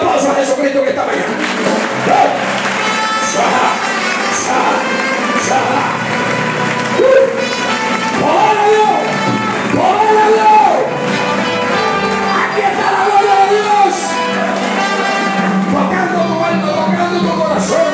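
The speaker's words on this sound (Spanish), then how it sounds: "Dale un aplauso a Jesucristo que está allá." Crowd applause and cheering at a church gathering during a mission trip in Puerto Padre, Cuba, loud and sustained, with shouts and whoops mixed in over a bed of music and voices.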